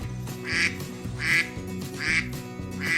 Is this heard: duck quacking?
yes